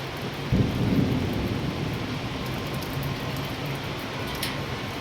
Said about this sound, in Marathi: बघा इकडे किती पाऊस चालू आहे. पाऊस गारेच आहे गारे.